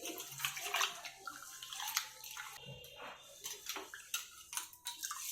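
Urad dal, chana dal and fenugreek seeds being washed in water, with close splashing, swishing and dripping in irregular bursts, quiet overall.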